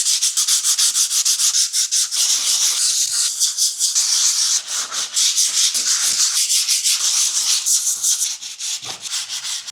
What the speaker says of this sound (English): we're going to go to a higher grit and we're going to sand it more